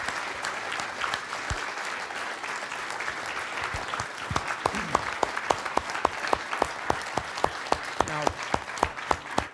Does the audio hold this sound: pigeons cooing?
no